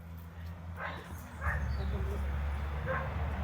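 A dog gives a few short, sharp barks and yips, spaced about a second apart, fairly close over a low engine-like hum, with people talking nearby.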